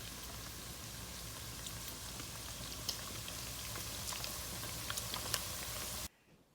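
Kluski potato dumpling noodles boiling in a pot of water: a steady, close bubbling rush with scattered small pops, running evenly for about six seconds before cutting off abruptly.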